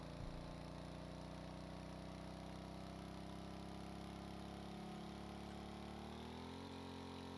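A continuous droning propeller engine hum in the video game Stormworks: Build and Rescue, with steady tonal harmonics that shift slightly in pitch near the end.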